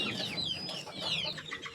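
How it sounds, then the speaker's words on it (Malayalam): Young chicks peep and cheep in quick, overlapping high calls, close by and fairly faint over light background noise. "നമ്മുടെ കോഴിക്കുട്ടികളൊക്കെ ഇതിലേക്ക് മാറ്റിയിട്ടുണ്ട്"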